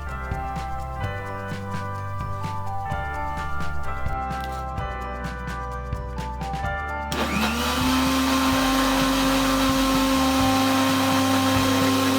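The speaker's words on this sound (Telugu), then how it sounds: "మిల్క్ యాడ్ చేసుకొని ఇంకోసారి బ్లెండ్ చేయండి." A mixer grinder blends muskmelon pieces with sugar and milk, first a lower, uneven churning whir, then a sharp jump to a loud, steady high-speed whine that holds to the end, with no voices.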